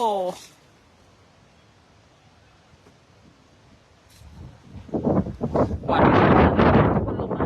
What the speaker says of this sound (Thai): โอ้โห ลมมา ลมมาแล้ว